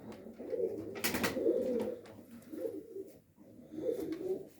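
Pigeons coo in soft, low, throaty phrases that rise and fade in a few repeated rounds, close by, with a brief flutter or rustle partway through and no voices.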